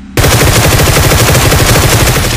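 Sustained machine gun fire in a battle royale video game, a dense, very loud, unbroken stream of rapid shots that starts abruptly and fills the whole stretch.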